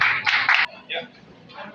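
Clapping at a community event in Pakistan: a short, loud burst of hand claps that stops abruptly, followed by fainter voices speaking in the room.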